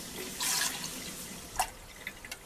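Japanese rice being washed in a bowl of water, a brief splashing swish followed by scattered drips and small trickles, close and quiet with no talk.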